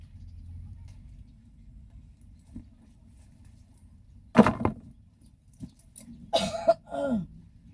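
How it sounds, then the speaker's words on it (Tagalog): A couple of sharp coughs break through quiet background, followed by a few more rough coughs and throat sounds. "ubo pa yung kasama ko"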